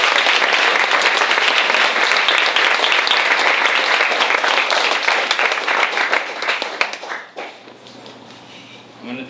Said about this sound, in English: let's give a warm round of applause to the one and only Tao Lin